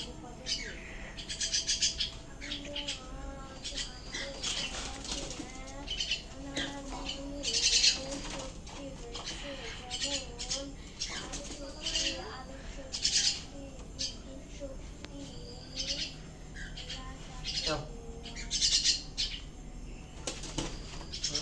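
Many common myna birds chatter and call all around, with overlapping squawks, whistles and chirps.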